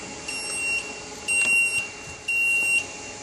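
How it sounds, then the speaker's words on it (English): A PLC-driven burglar alarm buzzer sounds for a zone intrusion in three steady high-pitched beeps of about half a second each, evenly spaced over a faint background hiss, with no voices. "the zone 1 LED will blink along with the buzzer."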